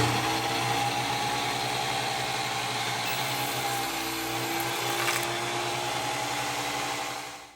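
A circular saw blade winds down after a cut in a workshop while a double-sided rabbit house and tractor cage is being built, a steady motor drone with low hum that holds, then fades out at the end, no talking.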